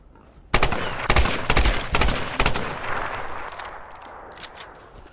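Rifle gunfire in the 2013 Tomb Raider video game: a loud burst of several sharp, closely spaced shots, followed by a fading, echoing tail and a few fainter scattered reports.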